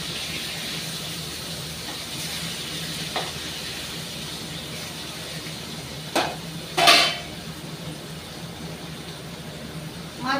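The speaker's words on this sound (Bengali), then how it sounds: "মাছটা ভাজা হোক" Fish frying in oil, a steady close crackling sizzle running throughout with a few sharper clinks and pops from the pan partway through.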